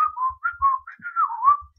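A person whistles a regular mouth whistle: a clear, wavering melody in short phrases with brief gaps, close and alone, with faint low thumps beneath.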